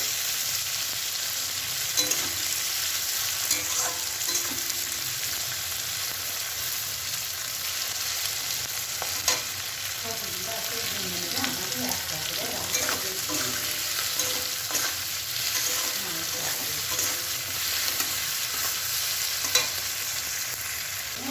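Capsicum frying lightly in a pan while being made into chilli paneer, a steady soft sizzle with occasional scraping stir clicks throughout, no voices.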